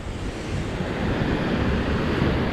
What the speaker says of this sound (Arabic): شوفوا لي البحر كي كيبان هنايا